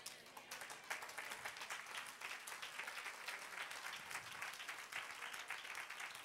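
Sustained applause from a church congregation during a sermon, steady dense clapping filling the space at moderate volume without a break.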